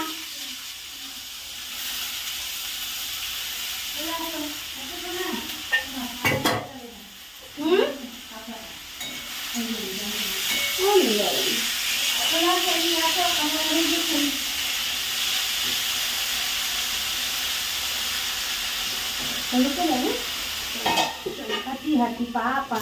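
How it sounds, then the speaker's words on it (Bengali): Fish frying in a pan at home, a steady sizzle with stirring running through the whole stretch, accompanied by faint intermittent voices in the background. "এখন মাছ ভাজা হচ্ছে"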